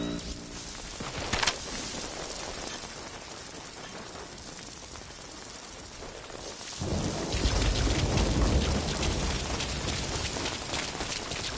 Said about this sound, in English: That rain just won't let up.